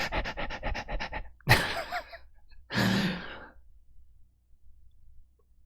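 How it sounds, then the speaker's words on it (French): Heavy breathing in a video game stream: a run of quick rhythmic pants, then a sharp gasp and a long exhaled sigh, close and loud, followed by near silence. "pour du bruit de respiration."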